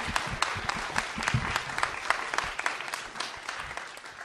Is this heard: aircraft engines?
no